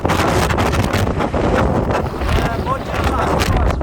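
Strong gale-force wind roars along the coast at Sokcho, a dense, continuous buffeting rush close to the microphone with gusty swells throughout.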